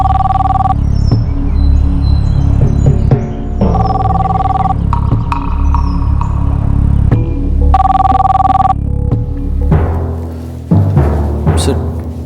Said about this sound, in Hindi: सर, पुलिस हेडक्वार्टर से आपके लिए फोन है।